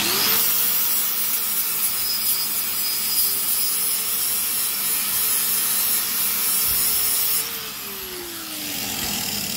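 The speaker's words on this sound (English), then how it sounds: "Grind a little before you're gonna weld." Angle grinder working steel on a 2,000 lb swing-back trailer jack ahead of welding, a loud, steady high whine for about seven seconds before the tool cuts off and spins down.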